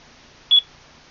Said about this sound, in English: we heard it beep at the end and that means the file's gone successfully